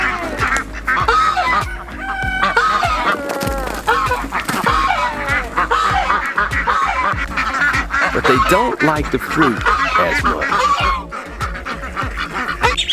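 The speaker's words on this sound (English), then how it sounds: "I also feed them to my ducklings, there you go, as well as our mature ducks." A flock of mature ducks and ducklings quacking and honking loudly at close range in a backyard, continuous overlapping calls, with a person talking briefly among them.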